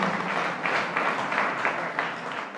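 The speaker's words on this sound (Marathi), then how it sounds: "आपण सर्वांनी या विद्यार्थ्यांना टाळ्या वाजवून त्यांना दाद द्यावी" An audience at a college literary association inauguration applauds prize-winning students, a dense, even patter of many hands that swells slightly in waves and continues without pause.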